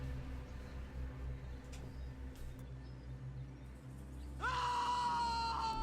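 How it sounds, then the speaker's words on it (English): A settlement inhabitant in Total War: Warhammer lets out a single sudden, wavering scream toward the end, rising clearly over a low, constant in-game ambient hum. "I'm trying not to laugh every time they do that horrible random scream"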